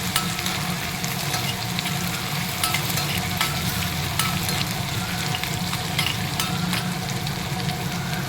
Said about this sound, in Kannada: ಸ್ವಲ್ಪ ಹಸಿ ವಾಸನೆ ಹೋಗೋಕ್ಕಂತ ಲೋ ಫ್ಲೇಮಲ್ಲಿ ಫ್ರೈ ಮಾಡ್ಕೊಂಬಿಡೋಣ.